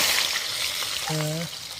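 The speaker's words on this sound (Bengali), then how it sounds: "মাংসের জন্য এখন আলু ভাজা হচ্ছে" Potatoes frying in a pan for a meat dish give a soft, steady sizzle, with a short voiced sound briefly rising over it near the end.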